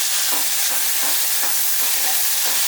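Tomato is tipped into a pan of Kathiyawadi-style okra sabzi as it fries. It gives a loud, continuous sizzle with soft rhythmic stirring scrapes and no talking.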